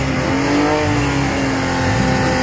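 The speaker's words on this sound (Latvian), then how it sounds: "Sporta automašīnas nedaudz pasusina trasi, lai būtu labāka saķere." Sports cars on a drift track roar continuously at high revs, with a loud, dense engine drone and tire noise filling the whole stretch.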